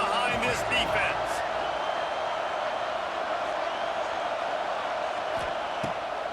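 A stadium crowd in the video game EA Sports College Football 26 roars in a steady, dense wash of cheering, with a commentator talking over it and a few thumps and claps early on.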